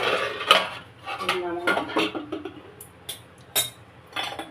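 A pot of egg curry being handled on a stove, with several close metallic clanks and clinks of the pan and utensils in an otherwise quiet kitchen.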